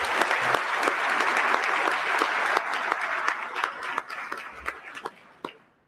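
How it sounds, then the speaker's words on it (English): Audience applause at a commercial real estate business forum, a dense steady crowd of clapping that thins into scattered claps and fades out near the end. "Give Chris one last final round of applause."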